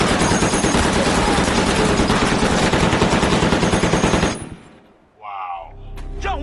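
Sustained burst of machine gun fire from a Pacific War battle scene, loud and dense with rapid rhythmic rounds, cutting off abruptly near the end into quieter battlefield sounds.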